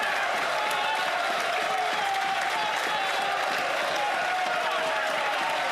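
Members of the House of Commons applaud in the chamber, dense sustained clapping and desk-thumping from a crowd with voices murmuring underneath.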